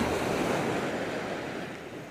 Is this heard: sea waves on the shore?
yes